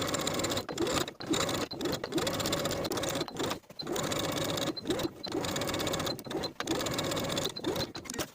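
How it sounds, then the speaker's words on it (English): Sewing machine basting the bottom raw edges of a colorblock pants waistband: rapid mechanical stitching runs in bursts separated by short pauses, close and clear, with no voices. "baste those bottom raw edges together all the way around"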